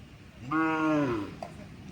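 A single loud, drawn-out moo from native cattle at a morning livestock market held before Pongal, rising and falling over about a second, alone with faint market ambience around it.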